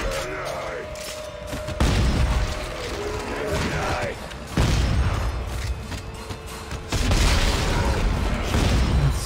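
Booming explosions and gunfire from the video game Dead Space 3, several heavy bursts in succession over a constant rumbling game soundtrack.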